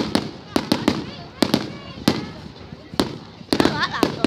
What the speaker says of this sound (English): Going to be the biggest fireworks